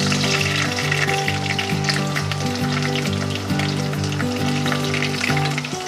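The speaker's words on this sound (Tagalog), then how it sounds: "pag mainit na yung mantika natin, pwede na natin simulang igisa ang ating pulang sibuyas" Red onion sautéing in hot canola oil gives a loud, continuous close-up sizzle, with a steady tonal hum beneath it and no talking.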